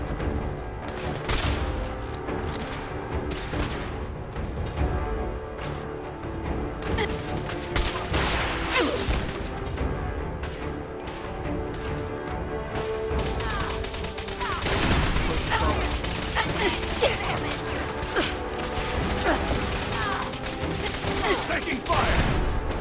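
Sustained gunfire in a Fallout 4 firefight, dense bursts and booms rolling continuously and loudly alongside a busy game soundscape, with shouted voices in the mix.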